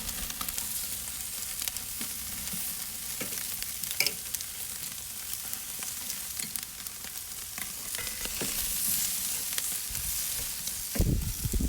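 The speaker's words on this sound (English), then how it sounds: "we're going to start adding the chicken to the hottest part of the grill. We're going to sear the chicken to add grill marks" Chicken pieces sear on the hottest part of a grill, giving a steady close sizzle and crackle throughout, with occasional sharp pops and a louder burst near the end.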